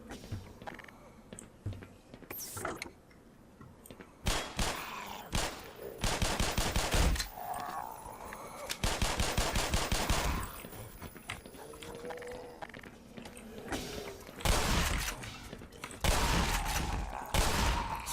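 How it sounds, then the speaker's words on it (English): Shotgun blasts fired at headcrabs in the video game Black Mesa come as several loud, sharp booms amid dense game sound effects and rapid clattering bursts. "quite fun to use the shotgun on them"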